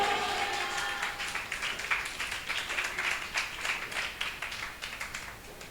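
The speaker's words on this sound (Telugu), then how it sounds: "గట్టిగా చప్పట్లు కొడతాం" A church congregation claps during Sunday worship, a steady dense patter of many hands that carries evenly throughout, loud and close, with no speech over it.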